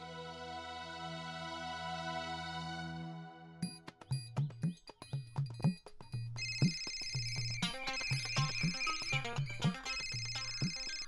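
A phone ringtone plays a sustained tone, then a lively electronic melody with repeated rhythmic notes, fairly loud and close, no voices.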